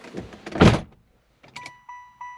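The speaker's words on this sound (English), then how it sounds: "So you close the door." The door of a 1996 Impala SS with an LS swap shuts with a heavy thunk, followed after a pause by a soft click and a few short electronic chime tones, with no voices.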